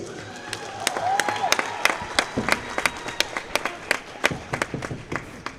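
A crowd applauding at a girls basketball state semi-final in a gym, dense steady clapping with some cheering spread across the stands and sharp individual claps standing out, with an announcer's amplified voice heard over it.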